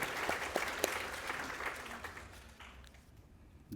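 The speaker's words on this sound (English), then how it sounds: "Actually, someone was going to clap." An audience at an evening literary talk on the craft of writing breaks into dense applause that starts strong, then thins and fades toward the end.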